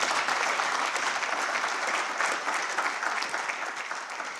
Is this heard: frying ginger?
no